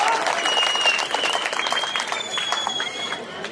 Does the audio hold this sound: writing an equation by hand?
no